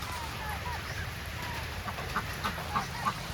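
Group of chickens in a farmyard pen clucking and murmuring softly, with scattered short clucks over a continuous low background rumble and faint voices.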